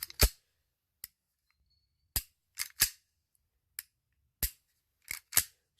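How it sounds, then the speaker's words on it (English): An IWI Masada optic-ready pistol gives sharp, isolated trigger reset clicks, about nine crisp snaps spaced irregularly across near silence, close to the microphone. "it's got a 3-pound factory trigger pull. It has a nice clean reset, nice clean break. So here's the reset."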